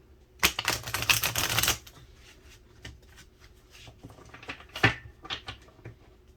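Stiff tarot cards shuffled by hand: a dense, rapid riffling burst up close for about a second, then scattered softer taps and flicks as the deck is handled, with no talking.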